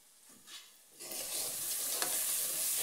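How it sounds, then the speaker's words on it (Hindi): Water is poured into a cooking pot for making rice, a steady broadband rush that starts quietly and then swells into a continuous loud stream that keeps going to the end. "अब इसके अंदर हम ये वाटर पड़ा है वाटर ऐड करेंगे।"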